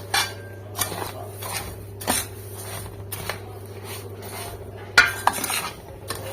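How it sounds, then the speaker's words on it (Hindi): Dry pakora masala spices are mixed in a bowl with a utensil, making scattered scrapes and light clinks against the bowl over a low steady hum, and no one speaks. "तो चलें अब इसकी करते हैं हम मिक्सिंग।"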